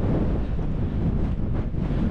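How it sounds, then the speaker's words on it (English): Strong wind buffets the microphone on an exposed hilltop at Alport Castles, a steady loud roar of gusts with no other sound. "but it's just too windy."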